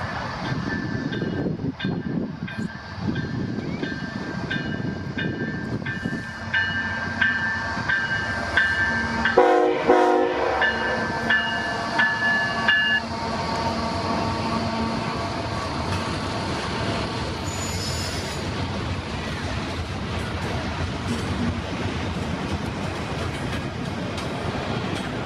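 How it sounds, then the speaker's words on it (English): A CPKC westbound container train passes steadily with a continuous rumble and wheel noise, its horn sounding in several long blasts through the first half before the passage carries on without it. "we got a westbound train coming, and I believe it's 113"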